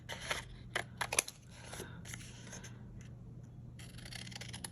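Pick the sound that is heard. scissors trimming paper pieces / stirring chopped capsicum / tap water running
scissors trimming paper pieces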